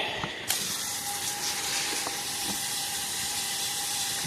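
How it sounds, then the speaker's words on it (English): Water sprays from a hose or can onto a plant growing in pumice in a garden, a steady hiss that starts with a sharp onset and runs on evenly, close by. "This one's growing in pumice, so gotta really give it a good water."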